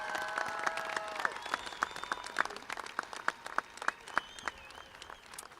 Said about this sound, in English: How about a big round of applause for the graduates from Ag and Natural Sciences?